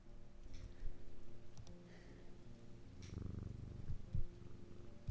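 A cat purrs steadily in the video game Strange Antiquities, a low, continuous rumble that stays close and fairly soft, with a few faint game tones and clicks around it and no talking.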